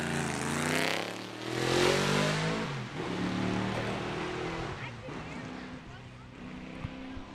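A 1965 Chevy Corvette race car engine revs loudly and close, a broad harmonic roar that swells and eases over several seconds while people talk over it.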